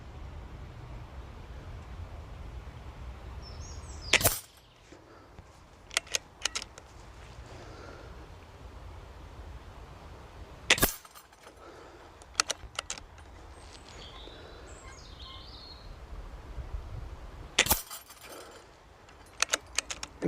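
A gun fired at a target about 22 metres away outdoors: three sharp, loud single shots spaced several seconds apart, with quiet background between them and faint clicks after each.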